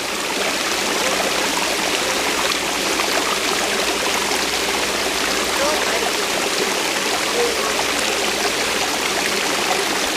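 Water rushes steadily down a waterfall stream, a dense, continuous hiss and splash that stays close and even throughout, with no voices over it.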